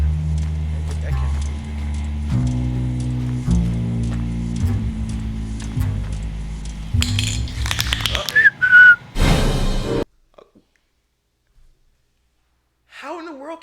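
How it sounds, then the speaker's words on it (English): Human whistling carries a melodic tune amid music and voices, then brief pitched whistles sound near the end after a quiet gap. "How in the world can they do human whistling?"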